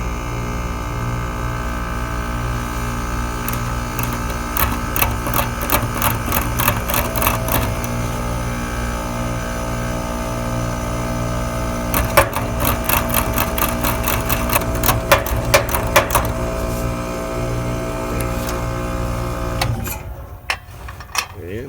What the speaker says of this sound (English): You can hear the compressor start to strain.